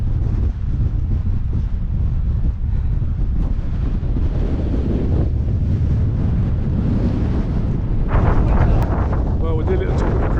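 Strong, gusting wind buffets the microphone near the steep summit of Cribyn on the Pen y Fan horseshoe. The roar is loud and continuous with surging gusts, and a voice is briefly heard through it.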